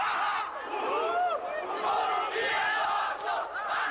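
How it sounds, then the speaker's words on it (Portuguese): Small, lively group of Fortaleza football supporters chanting and cheering in a nearly empty stadium of about 4,000 spectators during a 2003 Brazilian league match against São Paulo; a steady, echoing crowd roar of voices rising and falling throughout. "Entre os pouco mais de 4 mil pagantes está a pequena e animada torcida do Fortaleza"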